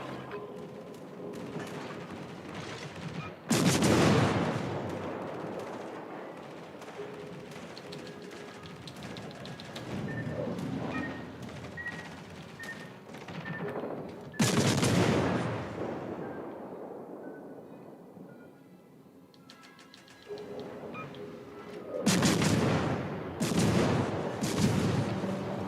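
Naval guns fire shells during a warship video game battle, with three heavy booming salvos spaced apart and each fading into a long, rumbling tail.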